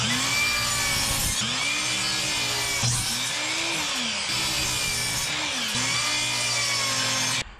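A saw cutting 2x2 wood into 12-inch corner pieces for a planter box: a string of loud, close cutting passes, each a few seconds long, separated by short breaks, with outdoor wind behind.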